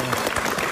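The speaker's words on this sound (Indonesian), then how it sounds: "Tepuk tangan dulu dong." Brief burst of audience clapping at an Indonesian talk show, dense, even applause heard for under a second.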